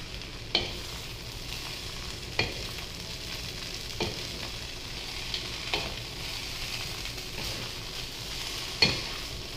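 A small wooden spatula folds a large batch of chicken fried rice in a pan, with a steady sizzle and periodic scraping knocks every second or two, close and alone without talk.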